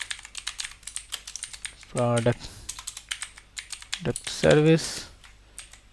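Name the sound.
typing code on a computer keyboard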